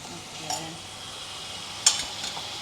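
Soft stirring and faint sizzling as hot milk is mixed into melted sugar syrup for bottle gourd kheer, quiet and close, with a couple of brief utensil clinks.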